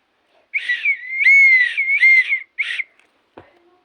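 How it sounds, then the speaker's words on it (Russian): A whistle is blown in several sharp, shrill bursts, the longest warbling, then a brief clack afterward; close and loud with no voices. "Это свисток."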